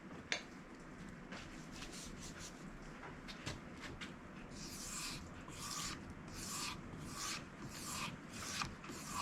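A knife blade is stropped on a leather strop dressed with red jeweler's rouge, giving soft repeated rasping strokes that speed into a quick steady back-and-forth rhythm near the end, close and fairly quiet, with no talk.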